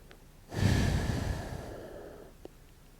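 One long breath during a slow yoga flow in puppy pose: a fairly loud, close exhale that swells suddenly and then fades slowly to quiet, with no talking.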